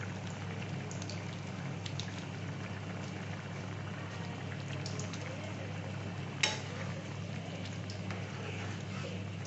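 Soya matar curry simmers in a pan, giving a steady, soft bubbling and hissing texture that stays even throughout, with one brief sharp tap partway through.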